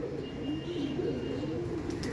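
Andhra pigeons, a pair of male and female birds, coo in soft low rolling calls that run steadily through the whole stretch, close by and fairly quiet with no talk.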